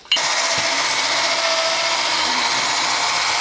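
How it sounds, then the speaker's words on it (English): A homemade electric polisher starts up and runs with a steady, high-pitched whir against a car tail light, loud and close, with no one speaking. "I rigged me up a, you know, electric polisher"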